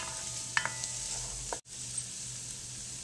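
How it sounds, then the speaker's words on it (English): Garlic cooking with vegetables in a pan gives a steady, soft sizzle with a couple of sharp utensil clicks and a brief stir, then a momentary dropout before the gentle frying resumes. "I would say you should cook your garlic for about 2 minutes"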